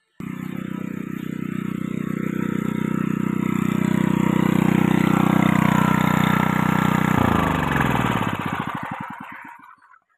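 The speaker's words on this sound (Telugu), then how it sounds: "ఇక ఇంజిన్ అయితే బంద్ చేయడానికి వెళ్తున్నాను." A farm engine in a garden plot runs with a steady low thrum for about seven seconds, then is switched off and sputters and slows to silence near the end.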